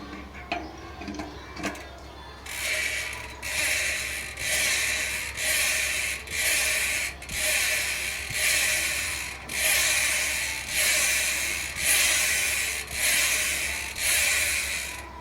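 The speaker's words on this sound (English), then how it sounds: "these are the parts that hit the ratchet and they produce the sound" A close, rapid ratchet clicking from a Trek Slash 9.9 bicycle rear hub buzzes in rhythmic surges, rising and falling about once a second, after a few faint taps.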